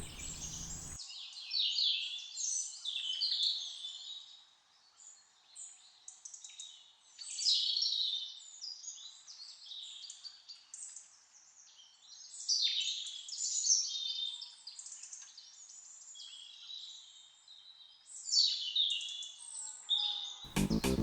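A tit sings in a valley, bright repeated high chirps and twittering phrases in bursts with short gaps, moderately close and clear over a quiet background.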